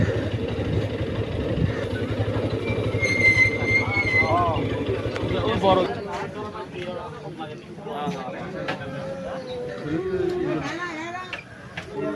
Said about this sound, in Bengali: মোটর সাইকেল যাচ্ছে সবাই